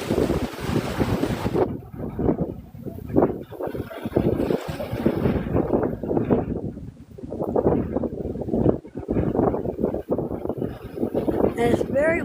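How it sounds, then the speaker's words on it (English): Strong, gusting wind buffets the microphone outdoors in Hollywood during setup for the Oscars, a continuous low roar that swells and dips throughout, with a faint voice heard in the background. "And it's very windy today."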